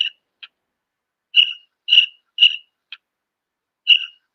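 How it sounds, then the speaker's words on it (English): Cricket chirp sound effect in near silence: short, clear, high trills repeat in spaced bursts, about seven in a few seconds, with nothing else audible between them. "Can you hear them crickets?"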